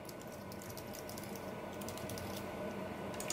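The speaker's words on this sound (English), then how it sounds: "just type anything in, anything more than 8 bytes in length" Keystrokes on a computer keyboard while typing test data into a CAN-UART board demo, faint rapid clicks in irregular bursts over a steady background hum, with no talk.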